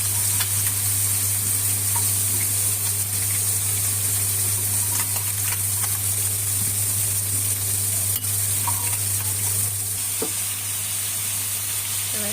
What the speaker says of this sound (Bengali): যেহেতু মশলাটা কষানো হয়ে গেছে, এখন আমি ভেজে রাখা মাছগুলো দিয়ে দিব